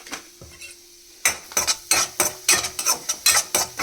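Semolina stirred with a spoon and roasted in a pan for halwa, a steady run of scraping strokes against the pan after a quiet start, close and moderately loud, with no talking.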